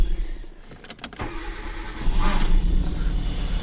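A Hyundai Getz is cranked with its Hall sensor disconnected: a few clattering starter turns, then a rising, rough engine run that holds up close and loud.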